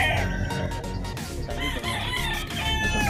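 A fighting rooster crows repeatedly with strained, rising calls, fairly close and backed by other fowl clucking around it in a backyard farm.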